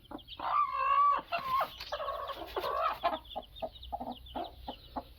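A mother hen with about thirty young chicks clucks close up in a series of loud, drawn-out calls, followed by shorter rhythmic clucks and peeps.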